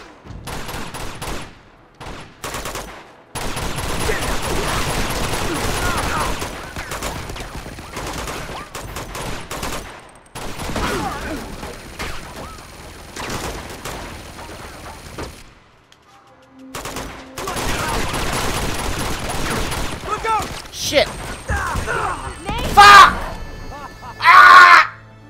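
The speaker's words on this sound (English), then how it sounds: "Machine gun over there!" Machine gun fire in Uncharted 2 Remastered at the monastery, dense sustained bursts broken by short pauses, mixed with groans, shouts and speech over a long firefight.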